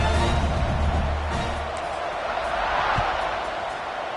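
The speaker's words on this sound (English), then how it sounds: "this crowd is buzzing after that last score" A football stadium crowd buzzes after a score, a broad, steady wash of distant murmur and cheering that fills the whole moment at fairly high level, with faint voices blended in.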